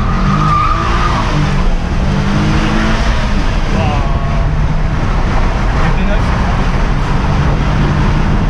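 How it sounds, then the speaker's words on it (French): A Jaguar S-Type engine roars loudly with tires skidding and squealing as it drifts through a turn; voices talk over the noise. "Et là tu viens de nous faire un petit drift quand même bien sympa dans le virage."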